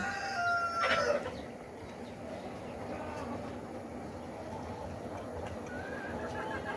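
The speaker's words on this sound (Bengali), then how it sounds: "আর এখানে আটত্রিশ পিস মুরগি আছে" Desi laying hens, a flock of about thirty-eight, cluck faintly and sporadically, with a brief louder crow-like call near the start over a quiet, hissy background.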